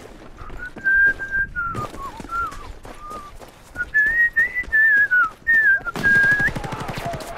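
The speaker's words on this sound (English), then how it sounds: "Whistling is never good on recording." A person whistles a wavering tune close to the mic during Battlefield 4 gameplay, in short phrases over background game noise and muffled gunfire.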